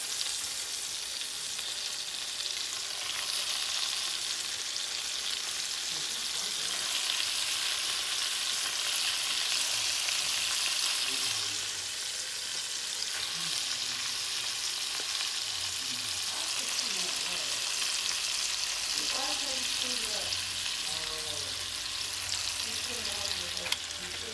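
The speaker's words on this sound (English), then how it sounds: "We're going to throw that into the skillet." Thawed beef steak sizzles in a skillet with a broad, steady hiss that runs the whole time, occasional stirring scrapes, and faint voices near the end.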